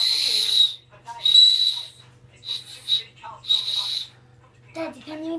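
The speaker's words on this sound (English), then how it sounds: "It's Lacey making a noise with that whistle lolly." A child blows a whistle lollipop in a series of high, breathy, fluttering toots, four or five bursts with short gaps, close and fairly loud, with a brief bit of talk at the end.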